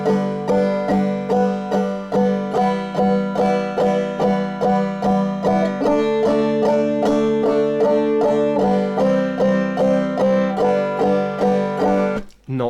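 An acoustic guitar strums the verse chords of a song with one even strum per beat, a steady, loud rhythmic pattern with no voices.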